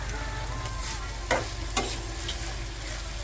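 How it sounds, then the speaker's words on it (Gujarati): Grated fresh green turmeric fries in a pan with a constant loud sizzle, broken twice by short scraping stirs of a spoon against the pan. "વીસથી પચીસ મિનિટ સુધી તેને ફ્રાય કરતું રહેવાનું છે"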